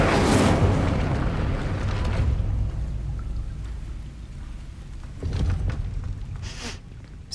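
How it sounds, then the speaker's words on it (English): Incendio fire spell cast in Hogwarts Legacy: a loud whooshing burst of flame that roars and crackles, fading into a rumbling, noisy tail with another flare near the end. "Incendio!"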